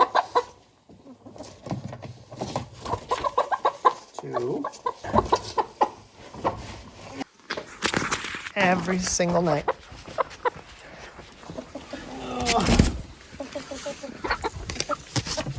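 Chickens cluck close by in short, busy bursts, with a person talking over them throughout.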